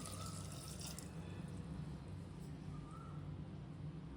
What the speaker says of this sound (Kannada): ಈಗ ಒಂದು ಗ್ಲಾಸ್ ವಾಟರ್ ಹಾಕ್ಕೊಳ್ಳೋಣ